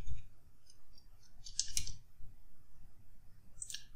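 Mouse clicks while selecting web page elements on a computer: a couple of close, sharp clicks in the middle and another near the end, faint low rumble between, no talking.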